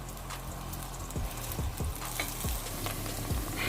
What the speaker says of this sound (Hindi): जितना हमें इसको ब्राउन करना था उतना हमने इसको ब्राउन कर लिया है